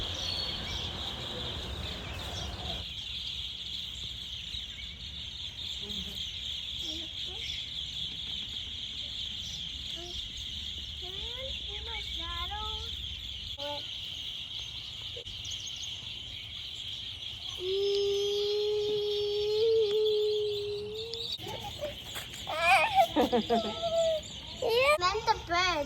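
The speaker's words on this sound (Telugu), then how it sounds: "పిట్టలు ఇంటి చుట్టూ చెట్టు దగ్గర." A steady high cricket chorus fills an evening outdoor scene around a village house at a festival. Scattered bird calls and children's voices are mixed in, and a person talks near the end.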